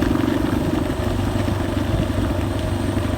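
Yamaha XT250 motorcycle engine while riding on a gravel road, a close, loud, steady mid-pitched engine drone with a chugging pulse throughout and no speech.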